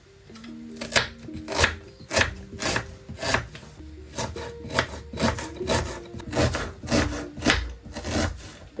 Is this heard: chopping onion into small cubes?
yes